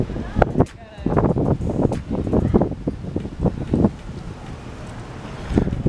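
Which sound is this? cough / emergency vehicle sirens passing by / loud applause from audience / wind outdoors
wind outdoors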